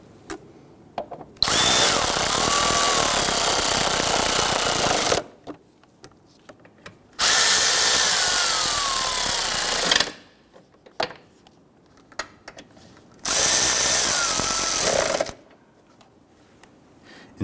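Power tool snugs down the transmission mount bolts on a 2017-2020 Hyundai Elantra 2.0L, three loud close bursts of several seconds each, separated by short pauses.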